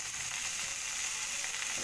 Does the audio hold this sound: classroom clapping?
no